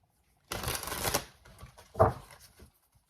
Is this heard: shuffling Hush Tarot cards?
yes